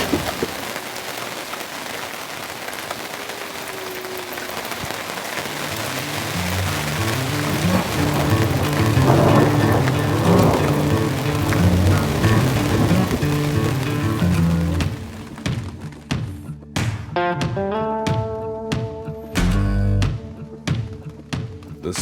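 Rain pours steadily onto a pop-up camper roof during a storm while camping in Colorado, building to a loud, dense drumming before thinning into scattered heavy drips and taps near the end.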